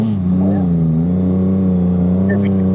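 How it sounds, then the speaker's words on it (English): On playback, a motorcycle engine revs loudly and holds a steady, droning note close by, with a slight rise and dip in pitch as it runs. "Certainly sounds good, doesn't it? That engine."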